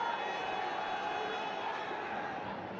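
A hockey stadium crowd cheers for the local team at a junior world cup match, a steady, dense roar filling the venue throughout with no breaks.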